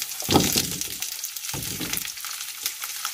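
Vegetables and onion sizzle and fry in a hot pan, a steady close crackle with two louder bursts as more food hits the oil or gets stirred.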